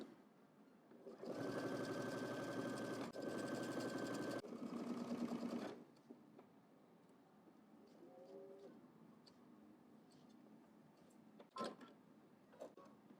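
A sewing machine runs a steady, continuous stitch along a sleeve seam for about four seconds, close and loud, then stops, leaving quiet handling noises and a few small clicks.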